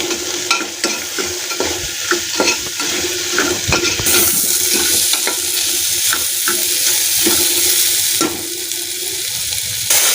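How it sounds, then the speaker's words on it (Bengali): Chickpeas and potatoes stir-fried with spices in a pan: a loud, close, constant sizzle with repeated rhythmic scraping knocks of a spatula stirring the mixture. "এবার এগুলোকে ভালো করে কষিয়ে নেব।"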